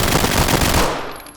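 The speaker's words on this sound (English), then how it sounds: "That's the Glock 18 Auto." Rapid full-auto burst from a Glock 18 Auto pistol in the tactical shooter Ready or Not, a dense, loud stream of shots lasting under a second before ringing off into a fading tail.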